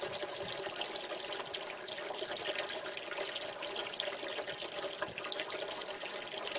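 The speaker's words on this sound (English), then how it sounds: "it immediately starts to refill as the water pouring in the bucket, into the barrel from the other side here" Water from a pump pours steadily into an aquaponics barrel, a continuous splashing, gurgling rush that stays even and fairly loud throughout with no voices.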